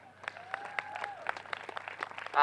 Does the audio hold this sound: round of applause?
yes